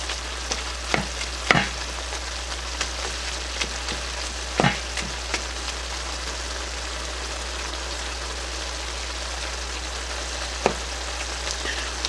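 Meat browning in a pan for homemade goulash, a steady broadband sizzle running throughout at close range with a few sharp clicks and stirring knocks scattered along the way.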